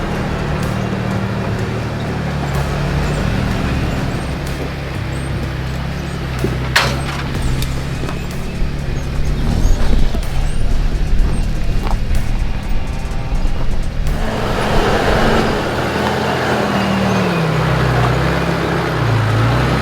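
A 4WD crawls along an off-road track in the Blue Mountains on tyres aired down low, its engine a steady close rumble with shifting low drone and clatter, rising into a rougher, louder passage toward the end.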